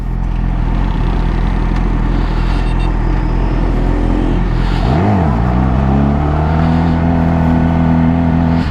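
A Yamaha R6 sport motorcycle on a ride, its engine droning loud and close with heavy wind noise, then a quick rev dip and rise followed by a steady climbing pitch as it accelerates, no talk over it.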